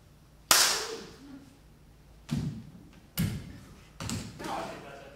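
Gunshot effect in a Sherlock Holmes audio drama: one sharp loud crack followed by three more heavy, thudding bangs spaced about a second apart, each decaying quickly, close and alone.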